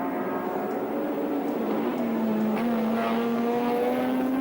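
Touring race cars at Sandown in the 1984 Australian Touring Car Championship, including a turbocharged BMW, roar past loud and close, with engine pitch sweeping steadily as they accelerate along the circuit.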